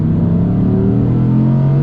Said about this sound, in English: then you hear a bit more engine sound, especially when you change down